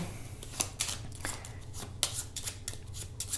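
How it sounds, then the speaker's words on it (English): A deck of playing cards riffled and shuffled close by for a card trick, a series of soft papery flutters and taps over a low steady hum, with no talking. "let's give the deck a quick shuffle again"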